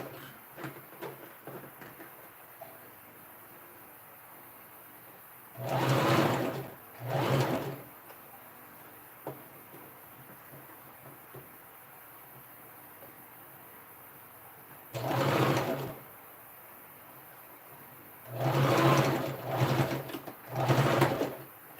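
Sewing machine stitching dress fabric in short bursts: a few brief whirring runs separated by pauses, with quiet room background between them.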